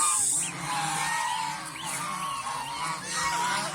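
A chorus of geese honking repeatedly in loud, overlapping calls, close by and continuous throughout.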